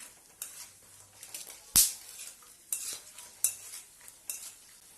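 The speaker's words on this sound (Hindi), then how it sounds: "लो ही फ्लेम पर उसको हम तलेंगे" Quiet sizzling of almonds frying in ghee over a low flame, punctuated by several sharp scrapes and clinks of a utensil stirring, close up with no talking.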